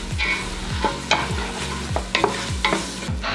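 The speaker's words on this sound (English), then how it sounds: "Medium heat, these guys are going to sweat down about 2 minutes." Onions sweat in a pan over medium heat while a spoon stirs them in regular scraping strokes, about five or six passes, over a steady close sizzle with no speech.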